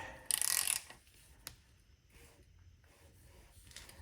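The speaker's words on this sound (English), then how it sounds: "now I'll use the ratchet to spin it so that I can get it to a spot where I can grab" A ratchet spins a bolt during an engine rebuild, giving one short, bright burst of rapid clicking up close, followed by faint mechanical handling.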